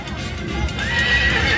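Horses enter an arena during a horse parade in Baia Mare, Maramureș, with a loud whinny rising over close hoof clatter and crowd noise.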